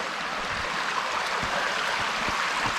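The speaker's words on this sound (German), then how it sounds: "Ich denke, man hört das plätschern." Water babbles and splashes steadily along a long stone channel in a brook, a continuous close rushing with small gurgles, no voices.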